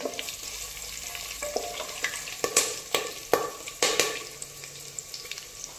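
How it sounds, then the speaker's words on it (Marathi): Whole spices and curry leaves are stirred through hot oil in a pan for pavta bhat, a steady sizzle broken by a string of crisp spoon clanks and scrapes against the metal. "आता यामध्ये खडे मसाले, आता हे सगळं व्यवस्थित मिक्स करून घ्यायचं आहे।"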